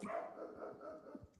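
Dogs bark in a few quick, faint yips and woofs, somewhat distant, with no talk over them.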